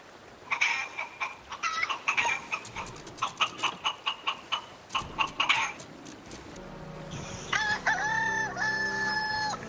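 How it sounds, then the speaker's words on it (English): Rapid, repeated chicken clucks followed by a loud rooster crow, played as recorded sound effects over in-game voice chat in Sea of Thieves, fairly close and clear. "I've got some chicken sound effects, so I'm just going to play them down the mic"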